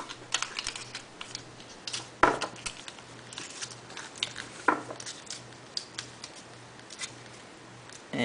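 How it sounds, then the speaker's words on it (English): Aluminum foil is pressed and smoothed tight over a hookah bowl, producing close, crinkly rustles and sharp crackling taps in irregular bursts, with a faint steady hum underneath. "Get our aluminum foil, make sure it's nice and tight over around the bowl."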